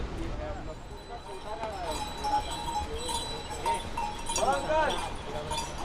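Horse hooves clopping along the mountain trail of the Kedarnath Yatra, steady close knocks under constant chatter of a crowd and a murmur of talk.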